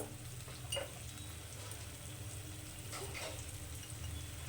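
Chili, turmeric, cumin and coriander masala sizzles and crackles in a pan while being fried for a South Indian coconut-milk chicken curry, a soft steady hiss broken by a few stirring scrapes.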